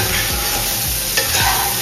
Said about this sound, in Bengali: কপিগুলোকে এবার একটুখানি লাল লাল করে ভেজে নেবো।